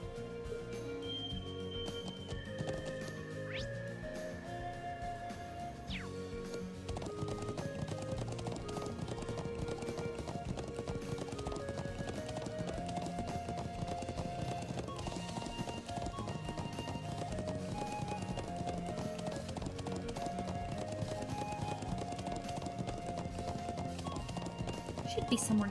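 Rhythmic hooves clip-clop steadily as a horse is ridden in the Trails of Cold Steel video game, mixed with background music and spoken dialogue throughout.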